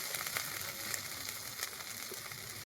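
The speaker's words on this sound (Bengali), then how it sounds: "দেখ এবার ভালো করে মশলাটাকে কষিয়ে নিব" Spice paste of poppy seed, mustard and dried chilli frying in a pan for pabda fish curry, a steady close sizzle with faint crackles throughout, ending in a sudden brief cut, no talk.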